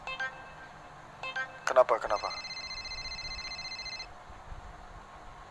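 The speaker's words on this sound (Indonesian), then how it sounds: "Tuh telepon lu tuh." A phone in a roleplay video game rings with bright electronic beeping tones, first short bursts and then a sustained ring, while someone briefly speaks over it.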